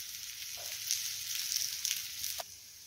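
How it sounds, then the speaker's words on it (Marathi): Thalipeeth (dhapate) dough sizzles faintly and steadily in oil on a hot tava, a soft continuous hiss with a few brief louder crackles. "हलक्या हाताने आपण तव्यावरती टाकून घेऊया."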